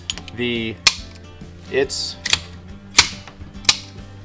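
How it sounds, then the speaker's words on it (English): A 1911 pistol's trigger is pulled and the action worked, giving sharp metallic clicks and snaps spaced about half a second apart, close by, with faint background tones and brief talk between them. "the trigger feels very nice"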